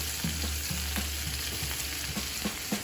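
Shrimp fry in hot shimmering oil in a pan with a close, continuous crackling sizzle, broken by frequent small pops and the light taps of the pieces being moved.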